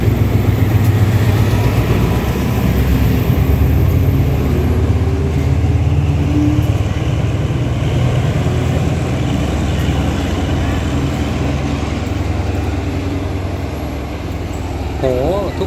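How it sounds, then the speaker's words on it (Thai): An American-built diesel locomotive engine revs loudly and steadily throughout at a station in Lopburi, Thailand, with deep low-end throb and mechanical roar close by. "เป็นเสียงรถจักรการเร่งเครื่องแบบว่าขุมพลังอเมริกาแท้ๆเลยครับ"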